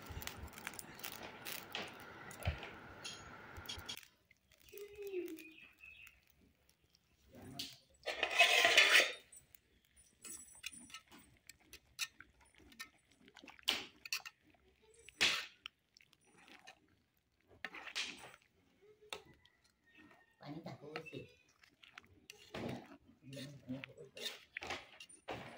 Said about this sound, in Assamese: পিঠাখিনি দি লগে লগে লৰাই থাকিব লাগে